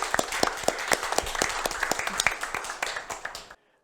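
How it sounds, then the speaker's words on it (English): Conference audience at an international forum applauding after a panel, a dense burst of many hands clapping for about three and a half seconds before cutting to silence. "and a round of applause."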